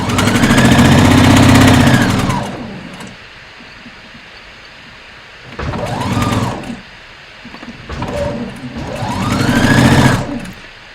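Sewing machine back stitching on a ruffle sleeve top, loud close bursts of motor whine rising and falling in pitch, with pauses between runs.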